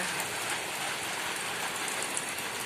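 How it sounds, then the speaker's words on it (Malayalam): Light summer rain falls in a steady, even hiss with no breaks, soft but constant, with no voices. "അത്ര ശക്തമായിട്ടുള്ള മഴയല്ല എന്നാലും ഒരു മഴ പെയ്ത് ഒരു വേനൽ മഴ"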